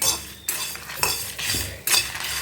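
Red chillies and grated coconut roasting dry in a pan for a varutharacha sambar with tender bitter gourd, heard as repeated close metal spoon scrapes and clinks against the pan, with no sizzle and no voices.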